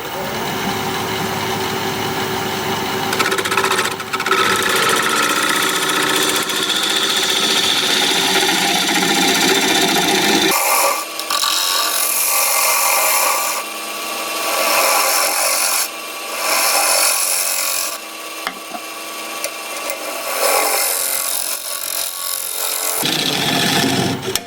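Wood turning on a lathe, with a cutting or scraping tool working a spinning blank of beautiful wood. A continuous loud rasping, rubbing whir runs throughout, shifting in tone partway through as the motor hum drops out.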